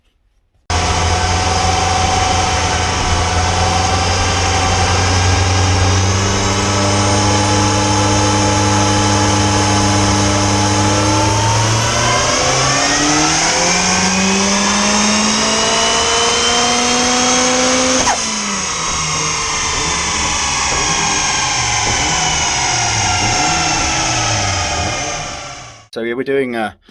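A turbocharged Mini Cooper S R53 race car running on a rolling road dyno with a MaxxECU Pro, its engine holding a loud, steady high-rpm drone that climbs and sweeps in pitch, then drops back before cutting off.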